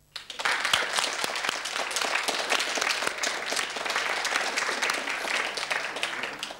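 Studio audience applause, steady and sustained after a quick start, with dense overlapping claps and no talking.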